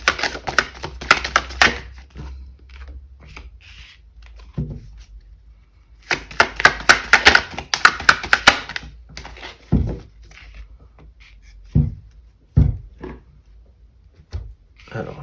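Oracle cards being shuffled by hand: bursts of crisp riffling and papery flutter in two main runs, separated by pauses and a few soft taps, with someone speaking French between them.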